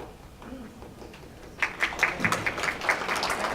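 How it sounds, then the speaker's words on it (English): Applause at a county legislative forum starts up midway after a quieter stretch with faint talk, then continues as scattered, fairly close hand claps that hold to the end. "Let's hold applause until the very end so we can continue forward."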